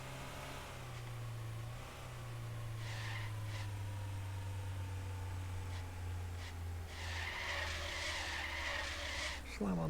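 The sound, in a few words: car skidding under hard braking in a driving video game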